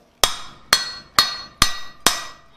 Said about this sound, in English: We are just going to rivet this straight down.